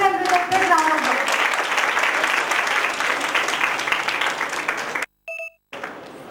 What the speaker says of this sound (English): So please welcome them with a big round of applause.